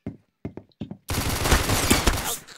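Rapid gunfire in a one-on-one video game match: a few short sharp shots, then a dense, loud stretch of continuous automatic fire lasting about a second and a half, with no talk.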